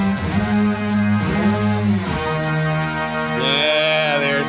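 A short melodic sample from The Chemical Brothers' "Let Forever Be" pitched up four semitones, bright and raised; sliding tonal lines shift and bend, ending with higher squealing tones.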